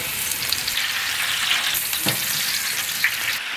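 Pure coconut oil frying in a pan for a village-style egg roast, a constant bright crackling sizzle with an occasional stir or knock, near and unbroken, no talking.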